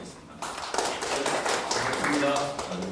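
An indoor audience at a talk bursts into applause, a steady wash of clapping that starts after a brief pause and holds evenly for a few seconds, with some voices mixed in.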